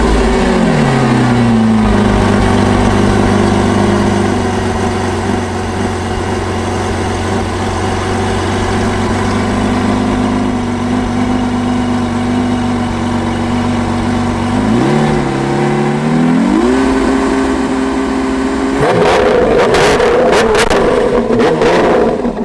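A 2019 Lamborghini Aventador SVJ revs hard up close, its loud engine holding high steady notes, dropping to idle, then climbing sharply again in repeated blips before a final burst.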